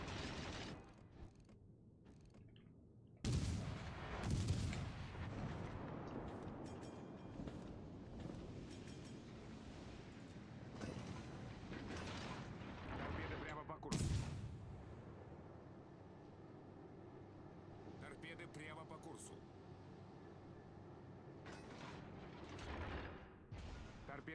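Naval gunfire from a World of Warships Legends game on PlayStation 5, with two heavy booming salvos several seconds apart over a continuous low rumble of battle, fairly faint overall.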